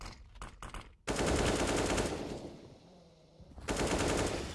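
Rapid automatic gunfire from the game Counter-Strike in a G2 Esports vs. MVP PK match on Inferno at IEM Sydney 2018, a short burst followed by a longer loud sustained volley that fades and then returns.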